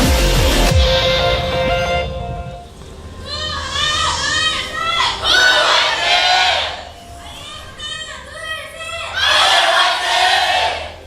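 A large arena crowd at a professional League of Legends match, LCK Summer 2015 KOO versus IM, cheering and chanting in loud rhythmic waves of shouting voices that rise and fall repeatedly.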